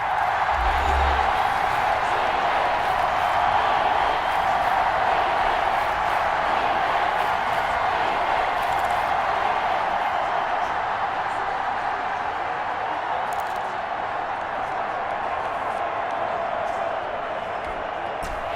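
A broad, steady roar from a stadium crowd at a Bills versus 49ers game in Madden NFL 21, sustained and loud throughout, with a commentator's voice running over it.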